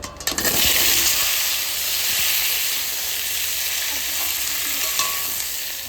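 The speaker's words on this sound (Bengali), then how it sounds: "এবার ফুলকপি আর গাজরটা ভেজে নেবো একসঙ্গে দুইজনে" Cauliflower and carrot fry together in hot oil in a pan, giving a loud, steady sizzle with hiss that runs unbroken for several seconds, with a few stirring clatters at the start and no talk.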